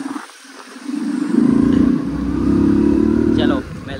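A motorcycle carries riders along a rural road near wheat fields, its engine droning steadily and close with a slight rise and fall in pitch, and wind buffeting throughout.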